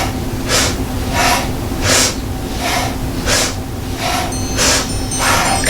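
Breath of fire yoga breathing: loud, rapid, forceful nasal exhalations in a steady rhythm, roughly one or two per second, close up with no talking.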